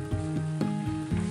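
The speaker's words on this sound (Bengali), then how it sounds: "এটা ফুটতে শুরু করেছে, আমি ঢেকে দিচ্ছি" Rhubarb chutney is just coming to a boil in a pan, bubbling and popping close by in a few quick bursts over a steady sizzling hiss.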